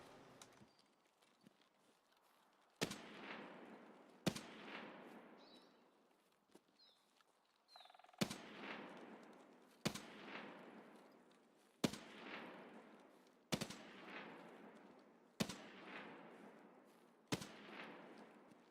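Gunfire in a first-person shooter game: sharp single shots crack at roughly even intervals of one to two seconds, each followed by a decaying echo, with faint distant sounds between them.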